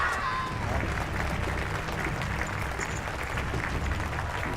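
A TV crowd cheers and applauds Greyjoy in Game of Thrones, a continuous wash of clapping and shouting at moderate volume.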